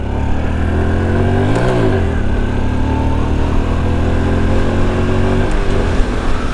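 Honda Super Cub C125 motorcycle engine buzzes loudly up close, its pitch climbing then dropping briefly at an upshift and again later, a steady rolling drone between gear changes.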